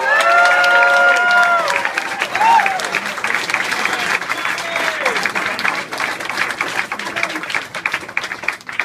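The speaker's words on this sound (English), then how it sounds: "and they deserve a round of applause too." A political victory-night crowd claps and cheers loudly for campaign volunteers, an opening burst of whoops and shouts over dense applause that settles into steady clapping with scattered voices.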